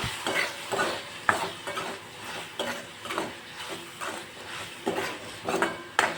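Spices and salt are stirred in a metal cooking pot while they fry. A utensil scrapes and clanks against the pot in repeated strokes over a soft sizzle, close and fairly loud.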